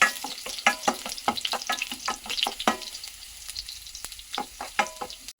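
Ginger sizzles and fries in a pan with stirring, the crackling close and steady with sharp scraping bursts, the sound thinning briefly midway before picking up again.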